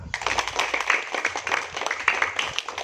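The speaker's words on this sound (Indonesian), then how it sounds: "Tepuk tangan." A class of students in a physical education lesson clapping their hands together, a dense, steady patter of many hands that runs throughout, fairly close.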